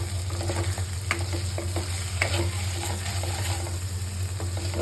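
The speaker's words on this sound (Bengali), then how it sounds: "কি সুন্দরভাবে পেঁয়াজ আর মটনটা একসাথে ভুনা হচ্ছে" Onion and mutton frying together in oil as a bhuna, with a steady close sizzle and soft stirring scrapes repeating throughout.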